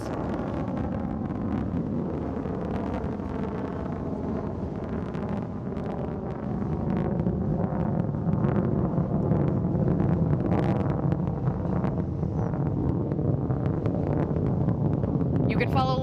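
A rocket engine roars at launch on a flight to space: a loud, steady broadband rumble that holds unbroken for the whole stretch, with a voice talking over it.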